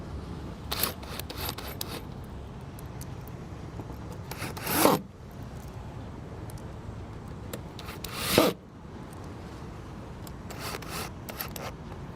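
Screws are driven in to fasten the user interface panel of a Frontier 400X pipe, heard as soft rubbing and scraping with two louder grinding bursts against a steady quiet background.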